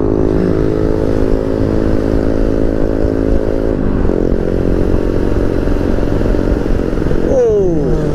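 A small BMW motor scooter engine drones steadily at close range while riding, its pitch shifting a few times, with a brief rising whine near the end.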